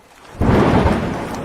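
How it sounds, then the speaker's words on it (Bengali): A thunderstorm with rain: after a brief quiet, a loud, close rumble of thunder bursts in and holds over steady heavy rain, with no voices. "বাইরে কি ঝড় বৃষ্টি হচ্ছে!"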